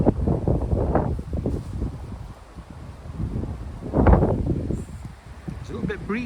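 Gusty outdoor wind buffets the microphone in steady rushing waves, swelling loudest around the middle, with people talking nearby on a late July afternoon in Ripon.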